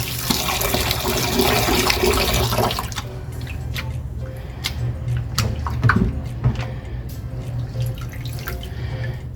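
Tap water running steadily over potatoes being rinsed of starch in a kitchen, a loud continuous rush for the first few seconds, then softer trickling with scattered clinks and splashes as the potatoes are handled.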